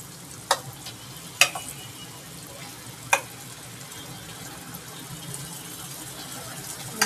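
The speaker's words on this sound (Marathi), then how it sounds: "मसाला चांगला फ्राय झाला." Masala paste fries in oil in a pan with a low, steady sizzle, broken by a few sharp clinks of a spoon against the pan, with no talking.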